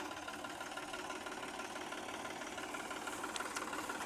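A tractor engine idles during paddy harvesting with a reaper, giving a continuous, fairly close, even rumble with a faint rhythmic knock and no talking.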